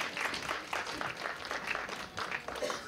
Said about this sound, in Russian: Аплодисменты нашим.